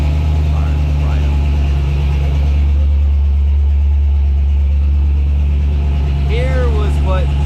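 A car engine idles steadily on an untuned ACES fuel injection setup, a loud, even low rumble that runs unbroken throughout, with faint voices near the end.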